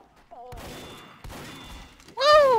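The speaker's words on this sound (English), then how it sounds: "The shotguns in this game are so accurate." Shotgun blasts from the game Team Fortress 2 crack in two sharp, loud bursts with thudding tails, followed by a shout, amid game sounds.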